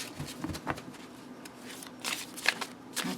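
Cardstock oracle cards being shuffled, a soft papery riffle and slide that comes in uneven bursts, close and fairly quiet, with no voices.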